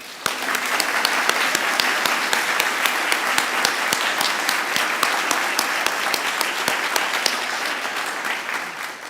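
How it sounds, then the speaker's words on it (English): Steady, sustained applause fills a university auditorium during an evening with an author, many hands clapping with distinct sharp claps standing out, continuous and loud. "I would like us to give a round of applause to those members of the Moore family who are here with"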